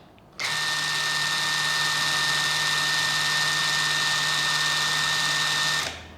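A DCA ADPL03-14 cordless impact driver running in low mode, a loud, steady high-pitched motor whine that starts abruptly, holds for about five seconds, then winds down, heard up close with no talking.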